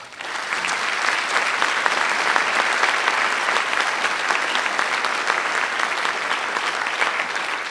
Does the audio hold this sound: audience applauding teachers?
yes